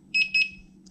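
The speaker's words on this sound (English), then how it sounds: "I turn off the first class alarm and the second class alarm, which are both kind of hokey" An electric unicycle alarm gives two quick, close, high-pitched beeps in a row, followed by a faint softer tone over a low background hum.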